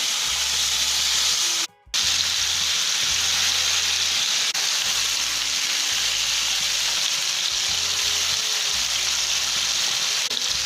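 Boneless chicken pieces shallow frying in oil in a pan for butter chicken, a steady loud sizzle with a brief dropout early on and occasional low bumps.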